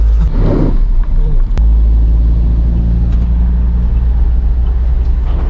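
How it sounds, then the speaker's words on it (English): A Coca-Cola truck travels the road nearby in Bohol, Philippines, producing a loud, steady low engine rumble with road noise that continues throughout, with no one talking. "See the Coca-Cola truck there behind us"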